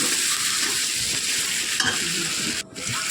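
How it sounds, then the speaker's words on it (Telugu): Okra and prawn curry is mixed in a pan, with a constant hissing sizzle and soft spoon scraping and one sharp clink near the end, heard close and without speech. "బాగా మిక్సింగ్ చేయాలి."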